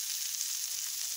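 Meatballs sizzle and crackle steadily in a hot pan, a continuous bright hiss with no voices.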